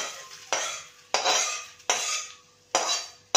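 A spoon mixes semolina pakora batter in a bowl in four rhythmic strokes, each a sharp wet scrape and clink that fades before the next, close up and with no voices.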